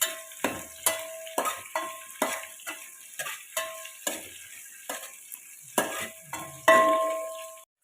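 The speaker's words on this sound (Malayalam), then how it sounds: "അപ്പൊ നമ്മുടെ ചെറിയുള്ളി ഒന്ന് മൂപ്പിച്ചെടുക്കുക" Sliced small shallots sizzle in hot oil while a spoon stirs and scrapes the pan in a steady rhythm of about a dozen close, crisp strokes, with the frying hiss running underneath.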